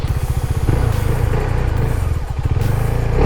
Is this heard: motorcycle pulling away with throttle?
yes